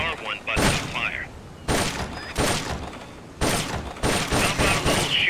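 Single shots and short volleys from a weapon during target practice in a stealth action game, each a sharp broadband burst separated by brief pauses, with a clear rhythmic pattern and quieter game sounds between.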